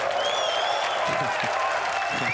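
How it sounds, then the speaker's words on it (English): Snooker crowd at the Saudi Arabia Snooker Masters 2025 final applauding and cheering a shot, with steady, dense clapping throughout and some voices mixed in. "Well, that probably got the biggest cheer of the day."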